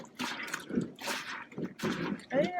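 Soapy laundry is squeezed aboard a sailboat, giving close, wet squelches and bursts of dripping water in an uneven rhythm, with speech over the sounds.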